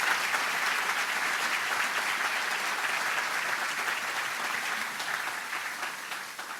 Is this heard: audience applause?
yes